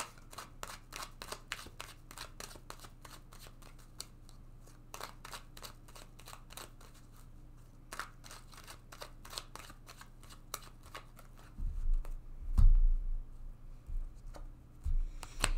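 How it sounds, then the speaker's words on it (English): A deck of tarot cards is shuffled with a long run of quick, crisp riffling snaps up close, followed by softer thumps and rustles as a card is drawn and handled. "Let's take another card for them."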